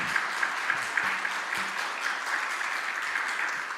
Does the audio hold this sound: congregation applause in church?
yes